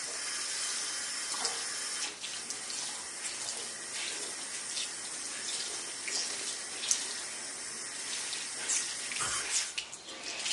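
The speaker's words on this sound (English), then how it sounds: "run it under some lukewarm tap water and keep squeezing it until the water runs clear" Lukewarm tap water runs from a faucet over a Beautyblender makeup sponge, a steady close splashing hiss with small squishing variations as the sponge is squeezed.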